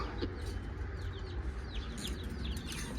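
Black-and-white hen with six newly hatched chicks, soft clucking mixed with high chick peeps, close and continuous over a farmyard background.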